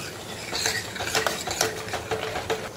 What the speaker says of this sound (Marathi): त्यालाही व्यवस्थित आपण परतून घेणार आहोत.